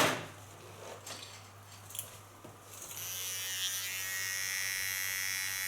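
An electric hair clipper cleans up the hairline contour during a colorful trendy haircut, with light scraping and handling sounds first, then the clipper's steady buzz swelling in close and continuing to the end.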